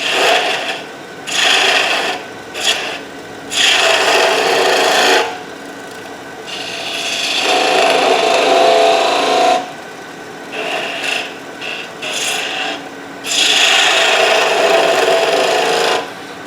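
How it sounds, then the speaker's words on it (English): A wood lathe spinning a blank as a turning tool cuts the wood, making loud raspy scraping in bursts with brief pauses between passes and no voices. "the lathe is running at 16, 18"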